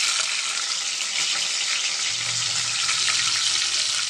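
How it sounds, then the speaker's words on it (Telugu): Dried shrimp fry in oil with a loud, continuous close-up sizzle. The hiss stays even throughout, and a low rumble appears partway through. "కొంచెం ఎగేదాకా నూనెలో ఫ్రై చేసుకున్నామండి"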